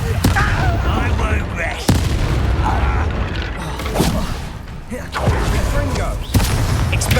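Booming magical spell blasts burst repeatedly in the Hogwarts Legacy video game, with sharp impacts and creaking mechanical rumbles over a dense action backdrop, and a voice speaks briefly.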